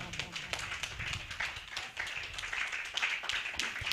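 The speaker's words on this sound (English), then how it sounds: "as we give them a hand of applause" An audience at an entrepreneurship foundation event in Ghana clapping as officials are called forward, scattered, fairly light hand claps at moderate distance, uneven rather than a full roar.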